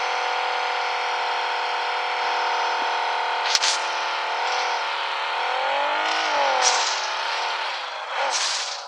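A car engine in PUBG Mobile revs with a strong, layered whine that dips and swells repeatedly, punctuated by a couple of sharp clicks and bursts.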